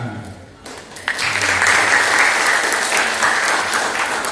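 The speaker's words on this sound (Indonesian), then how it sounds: "Tepuk tangan." Audience at a university legislation training lecture breaks into loud, sustained applause after a short pause, dense clapping filling the room and holding steady to the end.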